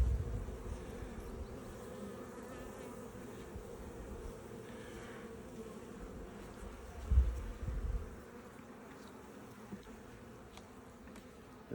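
Honeybees buzz steadily around an open hive during an inspection, a soft continuous drone close by. A brief louder thump or rustle breaks in partway through before the hum settles again.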